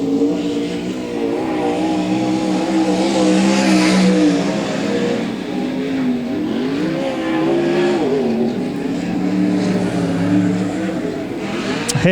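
Race cars, including car number 57, rev hard and accelerate away from the start line, loud and close with rising and shifting engine pitch throughout, and a brief tire squeal near the end.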